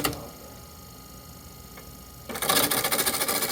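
A Turncrafter Commander wood lathe spins at 810 RPM, starting as a low, steady hum before turning abruptly into a loud, fast, rhythmic mechanical clatter close by.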